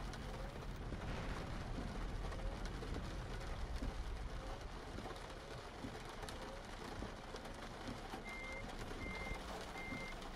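In Euro Truck Simulator 2, a truck hauling a heavy trailer backs up under a soft, continuous engine rumble. Evenly spaced reversing beeps sound near the end against ambient game noise.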